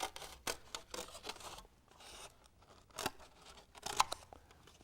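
Scissors snipping through rigid foam for a model airplane tail, a handful of close, quiet crisp cuts and rustles spaced unevenly over a few seconds.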